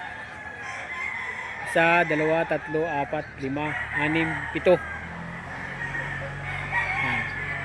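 Several roosters crow in turn at a fowl sale in Lipa City, Batangas, loud nearby calls with clucking between them, as a man counts aloud over them.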